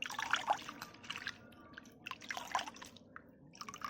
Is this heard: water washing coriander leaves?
yes